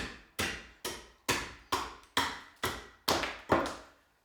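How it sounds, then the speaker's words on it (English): An axe cuts a series of nicks into timber while shaping a bowl-turning hook handle, giving eight sharp, evenly spaced chopping knocks, each decaying quickly, close and clear with no voices. "Once you've done the series of nicks about 2/3 of the way up, slice down and you'll remove those little chunks of timber."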